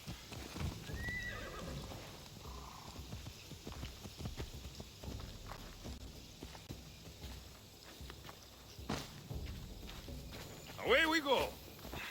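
Horse hooves clip-clop steadily in Assassin's Creed Odyssey, with a sharp whinny near the end rising over the footfalls, while characters talk beneath.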